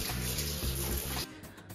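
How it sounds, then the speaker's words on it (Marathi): Running water rinses shampoo out of helmet inner padding, a dense close splashing flow that stops abruptly after about a second, leaving quieter dripping. "याला फक्त एकदा रिन्झिंग करायचं आहे, म्हणजे पाणी याच्यातून काढून टाकायचं"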